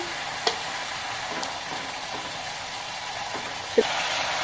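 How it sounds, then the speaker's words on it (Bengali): Onions fry with ginger garlic paste in a pan, a continuous bright sizzle with a few soft stirring scrapes and a louder clink near the end. "আমি কিছুক্ষণ পেঁয়াজটাকে ভেজে নেবো। 1 চামচ মতো আদা রসুনের পেস্ট দিয়ে দিচ্ছি।"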